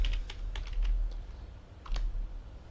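Quick bursts of computer keyboard typing with crisp, close key clicks, clustered at the start and again near the end, over a faint low hum.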